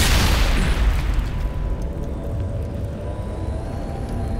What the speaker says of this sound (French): Wow, grenade!